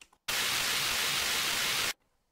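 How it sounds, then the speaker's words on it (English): A burst of white noise used as an accent in a hip-hop beat, a single loud, steady hiss lasting under two seconds that cuts in and out abruptly. "it's just white noise"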